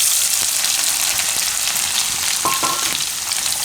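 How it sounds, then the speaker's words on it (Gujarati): Onions fry in hot oil with cumin, giving a steady, loud sizzle and crackle throughout, with a faint stir or clink near the end. "તો જીરું લાલ થાય એટલે એમાં ડુંગળી."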